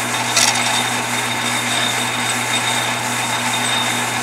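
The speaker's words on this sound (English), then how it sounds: "I'm going to grind it." A power grinder works a small metal part for an engine greaser cup on a Spirit of St. Louis aircraft engine, giving a steady, loud, continuous grinding whine that never lets up.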